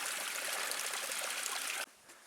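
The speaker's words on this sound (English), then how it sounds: "Water everywhere. Flowing right across the trail." Mountain stream water flowing across a hiking trail in the Yosemite Creek wilderness, a steady close rushing wash that cuts off abruptly near the end, leaving faint background hush.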